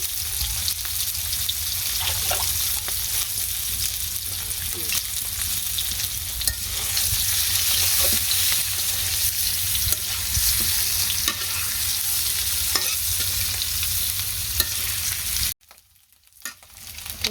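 Chili and turmeric are stirred and fried in a pan, giving a steady, close sizzle with spatula scrapes and clinks that runs for about fifteen seconds before cutting off abruptly into near silence.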